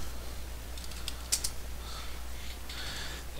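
A few quick key taps on a computer keyboard, faint and close, over a low steady hum with no speech.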